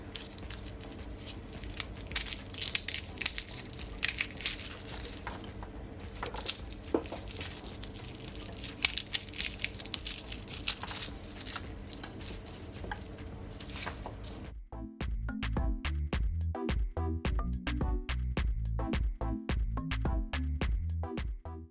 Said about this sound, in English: So now I'm gonna peel my garlic.